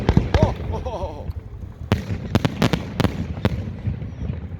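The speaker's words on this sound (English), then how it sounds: "those fireworks are kind of coming low" New Year's Eve fireworks bursting at close range, a string of sharp cracks and booms scattered irregularly, with people talking excitedly between the early blasts.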